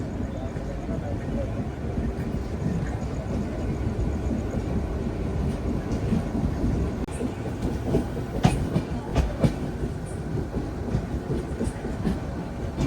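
The Alleppey to Dhanbad Bokaro Express rumbles steadily along the rails, heard from inside with continuous rolling noise and occasional clacks of wheels over joints, while people talk in the background.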